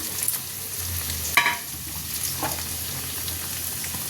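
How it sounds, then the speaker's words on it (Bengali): Fish pieces go into a boiling tomato, potato and mustard curry, bringing a steady bubbling simmer and sizzle with one sharp splash or clatter, close by and without talk. "এবার আমি মাছগুলো দিয়ে দেবো মাছগুলো দিয়ে দিলাম"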